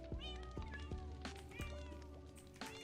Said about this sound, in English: You hear fire and cats together.